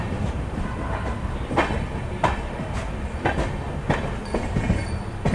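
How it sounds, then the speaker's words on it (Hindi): A train pulls out of Jagdalpur and rolls along the rails, a steady close rumble with regular clickety-clack wheel beats and faint squeals at the joints, heard without any voices. "अपनी जो ट्रेन है वो अब निकल चुकी है जगदलपुर से"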